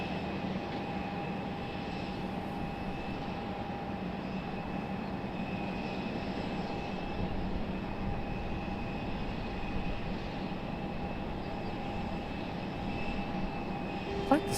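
A JetBlue airliner at Raleigh-Durham airport gives off a steady, droning engine rumble with a faint whine, heard from a moderate distance and holding constant the whole time, with no talking over it.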